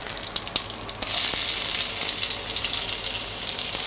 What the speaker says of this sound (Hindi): पहले डालेंगे ज़ीरा, फिर डालेंगे चॉप किया हुआ जिंजर गार्लिक